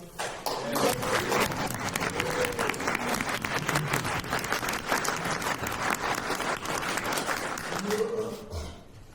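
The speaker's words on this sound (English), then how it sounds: "Can we clap for the author?" Climate summit audience clapping for an author, a full burst of applause from a crowd, steady and lively, tapering near the end with faint voices underneath.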